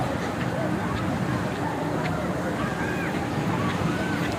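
Ocean waves at a beach, a constant, dense roar of surf and wind noise on the microphone, with scattered faint voices mixed in.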